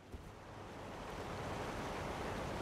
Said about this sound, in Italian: Andiamo sotto la cascata.